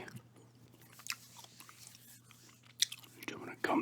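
Close, quiet gum chewing with soft wet smacks and crunchy bites at irregular intervals, mixed with low murmured talk over a faint steady hum.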